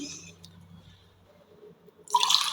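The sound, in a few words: water pouring and flowing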